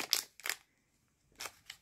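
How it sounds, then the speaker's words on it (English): Scissors snip through advent calendar packaging in four quick, close cuts: two in rapid succession, a pause, then two more. "might need some scissors"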